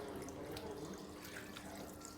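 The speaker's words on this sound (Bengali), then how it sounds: "এবার এটাকে আমি জল দিয়ে ধুয়ে নিচ্ছি" Steady running water splashes over raw jackfruit being washed outdoors, a continuous close gush with no talking.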